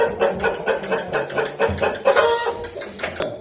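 Chickens cluck and chicks peep busily in a rapid, overlapping chatter, close by and fairly loud.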